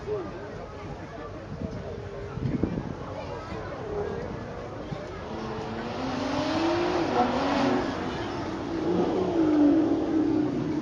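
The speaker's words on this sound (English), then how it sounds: "So our first car coming back up the hill. That's the Martin." A 5.9-litre V12 Aston Martin supercar accelerates up a hill, its engine note rising and swelling as it nears, with revs climbing and a voice talking over it.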